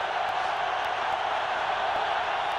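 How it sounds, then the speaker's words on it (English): Stadium crowd roaring after a touchdown at an Arizona State Sun Devils football game, a dense, steady wash of distant cheering that holds evenly throughout with no clear individual voices. "listen to the crowd roar"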